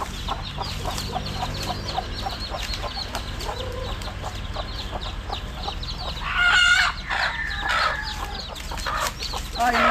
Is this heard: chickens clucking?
yes